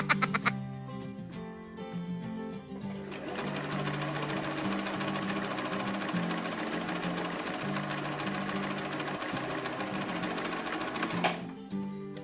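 Sewing machine stitching along the folded hem of a pair of long pants, a loud steady mechanical whir running continuously for most of the stretch before stopping near the end.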